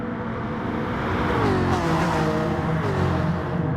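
Racing car engine in the GT Sport video game, a loud continuous drone with gliding pitch as the car accelerates and shifts, steady and close throughout.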